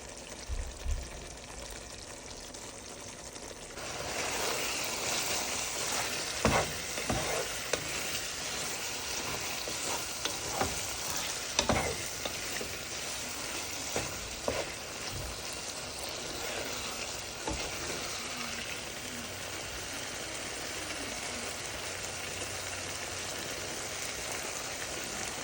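Kerala-style beef roast sizzles and fries steadily in a pan, with intermittent scraping and clinking of a spoon as it is stirred, a close, continuous crackle throughout with no talking.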